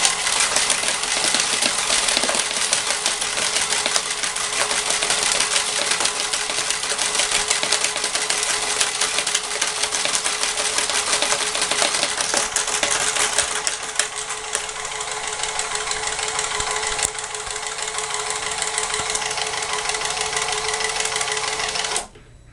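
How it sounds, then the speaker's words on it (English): A ReillyCoin penny sorter machine runs continuously, a loud dense mechanical whir with rapid clicking and rattling of coins being sorted, shutting off abruptly at the end. "And just simply turn on the machine and start sorting."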